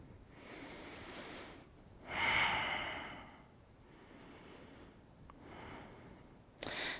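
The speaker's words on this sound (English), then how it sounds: "Breathe here." Slow, deep breathing during a yoga flow, with soft airy exhales and inhales that rise and fall over several seconds, one fuller breath standing out, close and quiet, with no talk.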